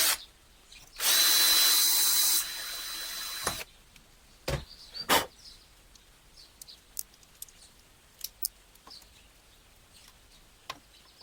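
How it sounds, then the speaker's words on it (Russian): A power drill bores a hole to mount a switch, one loud steady whir lasting about two and a half seconds, followed by sharp clunks and scattered faint taps in a quiet room. "Делаем отверстие для того, чтобы закрепить наш включатель."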